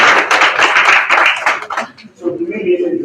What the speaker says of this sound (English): A round of applause for you.